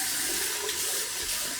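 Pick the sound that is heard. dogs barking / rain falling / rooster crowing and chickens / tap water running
tap water running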